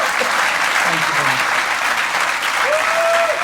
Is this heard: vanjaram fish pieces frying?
no